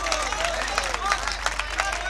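An audience clapping at a Hindi-Urdu mushaira and kavi sammelan poetry recital, scattered claps from a hall crowd mixed with murmuring voices, fairly soft and uneven.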